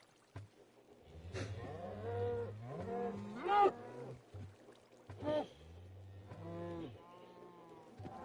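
Several Minecraft cows moo in turn at a farm, a series of separate low lowing calls that rise and fall, close and clear, with short quiet gaps between them.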